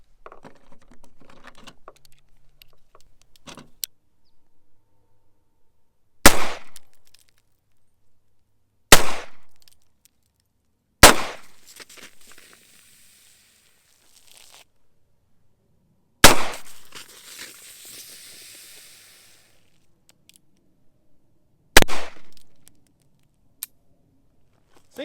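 A Heritage Barkeep .22 revolver fires 22 Magnum rounds at a steel target, six sharp, loud single cracks spaced a few seconds apart, with quiet handling and faint rustling between shots.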